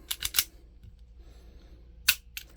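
Smith & Wesson Bodyguard 2.0 pistol trigger clicking as it resets, a quick cluster of three crisp close clicks followed by two more after a short pause.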